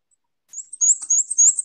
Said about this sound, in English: The black and white warbler.